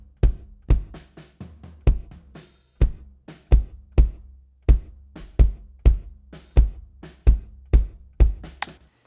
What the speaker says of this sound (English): If I start with just the inside microphone,